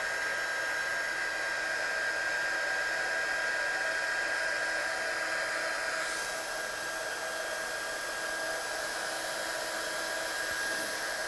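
A heat tool blowing steadily over watercolour paper to dry it, a continuous airy whir with a faint high whine, unbroken and close for the whole stretch.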